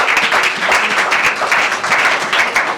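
A church congregation applauds the Lord together, a dense and steady wash of clapping that fills the room without pause for the whole stretch.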